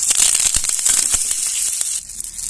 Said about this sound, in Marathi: आता आपण कडीपत्ता भाजून घ्यायचं